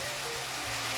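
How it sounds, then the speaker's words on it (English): Pork sears in a hot pan for a stir fry, giving a soft, steady sizzle with a faint low hum, fairly quiet and alone. "This here is really starting to sear up a bit."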